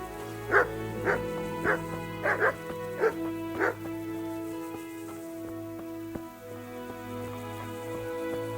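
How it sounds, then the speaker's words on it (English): Dogs in the medieval video game Kingdom Come: Deliverance bark in a run of about six sharp, evenly spaced woofs, fairly close, then fall quiet over a steady low ambient drone. "as soon as you get on their property, dogs will start to bark at you"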